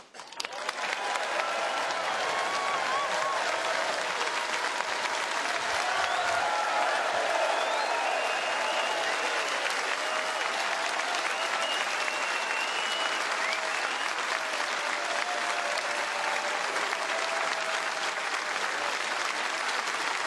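A packed Crucible Theatre crowd at the 2025 World Snooker Championship claps continuously and evenly, a dense sustained wash of applause with no pause in it.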